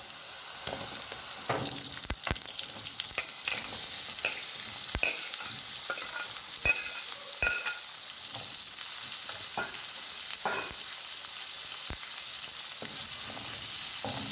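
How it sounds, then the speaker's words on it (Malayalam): Sliced onion frying with ginger and garlic in hot oil for pepper chicken, a steady sizzle throughout with frequent sharp spatula taps and scrapes as it is stirred, close and even. "അപ്പോൾ ഞാനിനി ഇതിലേക്ക് സവാള ചേർത്ത് കൊടുക്കുകയാണ്."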